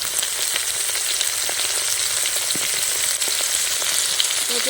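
Potatoes and eggplants fry with salt in hot oil, giving a steady, close, continuous sizzle with small crackles and pops throughout, and no voices.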